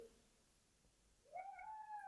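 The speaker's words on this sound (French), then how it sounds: "C'est mon chat, June" A house cat gives a single clear meow near the end, quiet and close, after a faint earlier vocal sound in a hushed indoor room.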